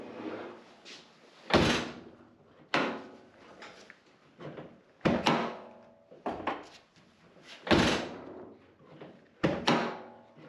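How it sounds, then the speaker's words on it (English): Several sharp mechanical pops and thunks from a 1985 Toyota 4Runner door latch, spaced irregularly with quieter rattling handling noise between them, close up. "Nice little pop action when you go to pull the door."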